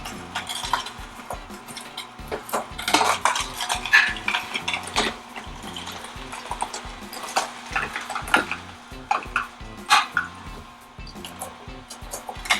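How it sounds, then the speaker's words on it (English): Omega 8006 and Omega 900HDC juicers working through carrots, a low steady motor hum beneath irregular crunching, grinding and scraping bursts, close and fairly quiet with no voices. "So let's get our juicers going."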